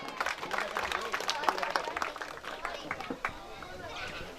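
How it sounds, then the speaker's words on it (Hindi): A crowd at an education event claps to welcome a guest onto the stage, with steady, somewhat scattered applause running throughout under busy voices and chatter. "आप स्वागत करेंगे जोरदार तालियों से।"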